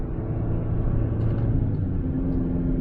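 A 2025 Chevrolet Colorado Trail Boss pickup pulls away under throttle with a steady low engine rumble and road drone, heard from inside the cab without talk.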